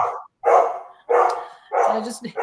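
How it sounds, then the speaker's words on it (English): Pet dog barking indoors, four loud close barks in an uneven rhythm with short gaps between them. "It's my dog's decided to join in the communication."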